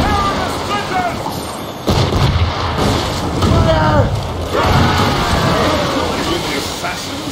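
Naval mines burst in a sea battle in Assassin's Creed Rogue, heavy booming explosions arriving in several waves around the middle, loud and close, layered over ship noise and spoken dialogue.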